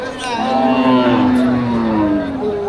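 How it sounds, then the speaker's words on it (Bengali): A skinny cow at a cattle market gives one long, loud, close moo that lasts the whole moment, with a faint crowd murmur behind it. "এই যে হাড্ডিসার গাভী আছে এদিকে আরো।"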